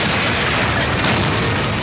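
A meteor airburst's shockwave sweeps over a city as a sustained, loud low-frequency roar with a broad rumbling wash, steady and unbroken throughout.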